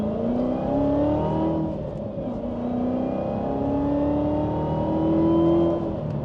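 A Corvette C7 Z06 fitted with a ported throttle body revs up under load. Its engine note holds loud and steady, with pitch climbing and falling through repeated acceleration pulls and no voices over it.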